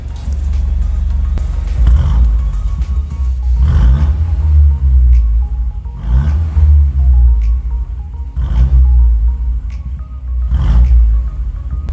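A car with its variable-valve exhaust opened roars through about five loud, deep revving bursts in steady succession, each rising and falling over a heavy low rumble, with no voices.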